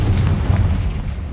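Confringo fire spell cast in Hogwarts Legacy, a dense low rumbling blast that stays loud and steady through the short moment with no talking.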